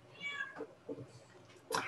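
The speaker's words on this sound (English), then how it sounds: "your cat's meowing through the door, I guess." A house cat meows from behind a closed door, giving a few faint, muffled cries spaced over a couple of seconds, with the last one sharper and louder.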